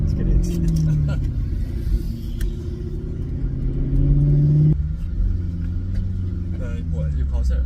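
A Maserati GranTurismo S engine rumbles and rises in pitch under acceleration, with a quick upshift and the revs falling, heard from inside the car while people talk over it.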